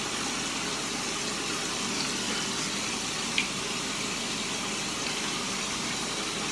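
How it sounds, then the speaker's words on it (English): Tap water running steadily into a bathroom sink as a face is wetted, a soft continuous hiss at low level with no talking. "So I just put a little bit of water on my face"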